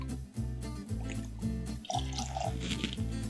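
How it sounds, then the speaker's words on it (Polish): Lemon juice pours into a cocktail shaker close to the microphone as steady liquid trickling with small splashes, over a low background hum. "shaker, do którego wlewamy po kolei słuszną porcję 50 ml szkockiej whisky. Następnie 25 ml soku z cytryny."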